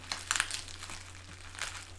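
Package wrapping being cut through with scissors while opening a present, a few faint crinkling and crackling bursts of plastic or paper packing material, close and quiet with no talk.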